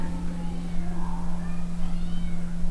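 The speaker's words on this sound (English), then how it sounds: "It's a darling little kitten." A male buff red ginger kitten meows softly a few times, faint rising cries over a steady low electrical hum and room noise.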